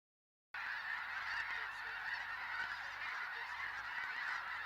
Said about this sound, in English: The gathering of the snow geese